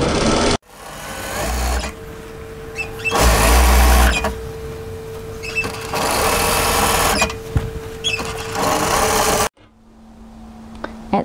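A sewing machine stitches down an apron toward the hem, running in long sustained close whirring passes broken by a short pause to pivot, with no voices over it.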